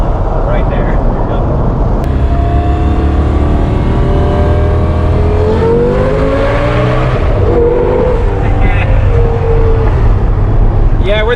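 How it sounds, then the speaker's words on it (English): Lamborghini Gallardo exhaust echoing under an overpass, a loud rising roar with sweeping pitch as the car accelerates past, heard over steady road and wind noise with voices talking throughout. "driving just to an overpass to hear this Gallardo exhaust"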